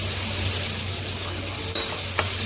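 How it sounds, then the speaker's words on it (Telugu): Tomatoes, onion paste and turmeric being stirred into a bitter gourd curry in a pan, a steady soft sizzle with scraping strokes of a spoon, two brief louder clinks near the end, no talking. "ఇలా బాగా కలుపుకోవాలి"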